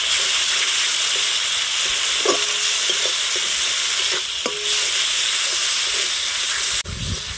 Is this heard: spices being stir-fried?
yes